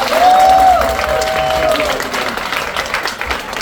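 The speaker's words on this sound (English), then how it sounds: "Give Dr. Dan another big hand." An audience on a cruise gives a speaker a big round of applause, with dense, steady clapping throughout and a brief whistle near the start.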